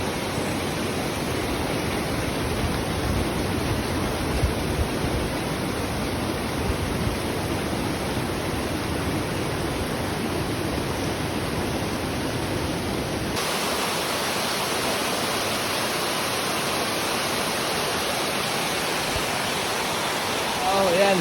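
Rushing water of a stream near a waterfall on a hiking trail, a dense constant hiss and roar heard close and unbroken throughout.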